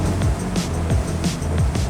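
A SuperRib 30 Open inflatable motorboat runs at high speed, around 55 knots, its engine a steady loud roar with rhythmic thumps as the hull slaps the waves about three times in two seconds.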